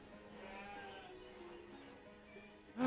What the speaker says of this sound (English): There's a sheep right here.